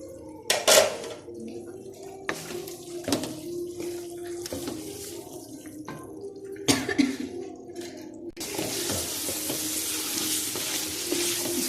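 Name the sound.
fried chicken added to sizzling masala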